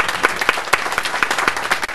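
A crowd applauds at a sheriff's swearing-in ceremony, with sharp, rhythmic claps that stand out over a steady wash of clapping nearby.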